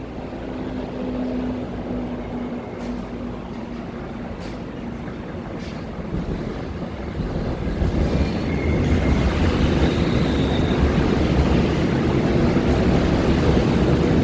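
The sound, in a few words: train approaching station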